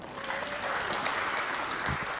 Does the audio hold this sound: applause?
yes